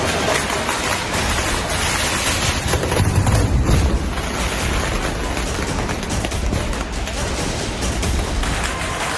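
Fireworks burst at a temple festival in Kasaragod, Kerala, in a dense continuous crackle of rapid pops and bangs, loud and close, with a heavier cluster of blasts partway through and no clear speech.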